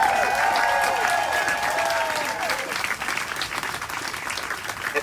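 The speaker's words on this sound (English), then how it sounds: "clap for brown kids, come on" Sustained audience applause fills the room, a steady dense patter of many hands with some crowd murmur, while a few tonal sweeps and faint voices drift over it.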